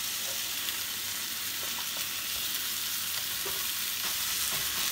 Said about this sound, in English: I'm gonna let it cook along with the onions and garlic.